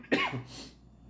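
A single short, husky cough from an adult man, close and fairly quiet, with a rough throat-clearing tail that fades into room tone.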